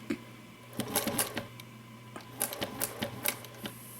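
A sewing machine stitches a tote bag in short bursts of rapid mechanical clatter, several stops and starts over a low steady motor hum, fairly quiet and close.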